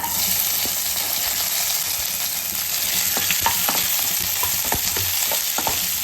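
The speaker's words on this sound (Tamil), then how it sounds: "வெங்காயம் போட்டுக்கலாம்." Onions sizzling steadily in hot oil with bay leaf, cinnamon, cloves and cardamom, a continuous close frying hiss broken by scattered sharp pops and light stirring clicks.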